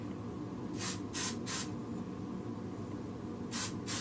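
Hairspray spritzed onto curled short hair: three quick hissing bursts in a row, a pause, then two more short sprays, close and fairly quiet.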